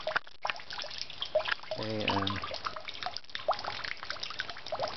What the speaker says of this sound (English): And there's the water going out here.